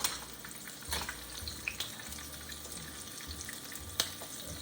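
Shrimp fry in a hot pan with a steady, dense sizzle that holds at a moderate level, broken now and then by faint clicks and small bumps.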